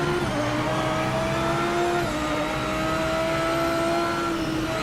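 A race car engine in Project Motor Racing drones at high revs, loud and constant for about five seconds, with the pitch rising and dipping at gear changes and no voices.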